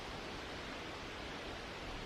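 Flowing water in a mountain wilderness makes a steady, even broadband rush, faint and distant, with no voices over it.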